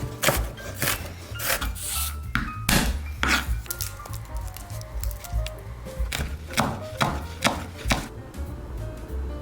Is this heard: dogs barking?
no